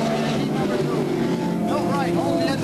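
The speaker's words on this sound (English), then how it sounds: "Bill Wright, holding the engine to go into turn one" Stock car engines roar around Wiscasset Speedway in Maine during a 1988 race, one lifting off going into turn one, with a continuous loud engine drone that rises and falls and a commentator talking over it.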